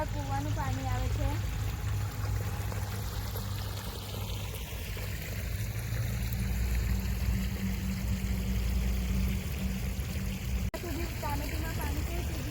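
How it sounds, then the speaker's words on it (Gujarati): Well water pours from an extended pipe into a farm field, a steady splashing flow heard up close throughout, with people talking over it at the start and again near the end. "આ છે ને અમારા કૂવાનું પાણી આવે છે."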